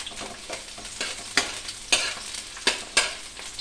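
Chopped onion and chili sauté in hot oil in a pan with garlic, sizzling steadily while a utensil scrapes and stirs in a few sharp bursts.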